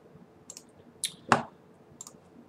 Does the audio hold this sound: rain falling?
no